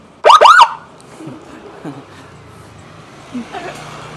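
A loud TOA PJR police-style siren horn fitted to a Yamaha Byson motorcycle gives two short rising wails, close and alone, then cuts off and leaves quiet background noise with a few faint distant sounds.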